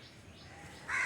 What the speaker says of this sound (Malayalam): എന്താണ് കാക്കക്കുട്ട കരഞ്ഞുകൊണ്ടിരിക്കുന്നത്?